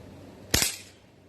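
A single sharp crack as an Umarex Ruger 10/22 air rifle fires a pellet at a Pepsi can, a quick double snap of shot and impact heard alone against quiet background.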